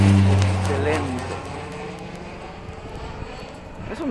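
Engine drone of an aerobatic airplane performing rolls, spins and inverted flight at an air force air show, loud at first then easing slightly as the plane moves, with a commentator talking over it throughout.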